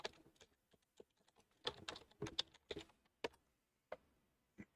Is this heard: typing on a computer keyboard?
yes